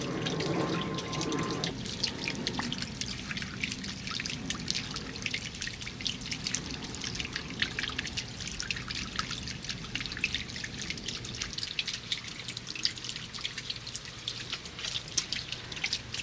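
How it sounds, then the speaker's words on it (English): Water trickles and drips steadily from a DIY fountain made from a salvaged bird bath in a garden, a continuous close splashing with a faint plane drone in the background. "Well, it's actually a bird bath, but I made a fountain out of it."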